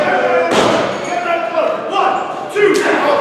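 Stiff hits land in a professional wrestling ring: heavy slamming thuds, one near the start and another late, over continuous crowd noise and commentary voices.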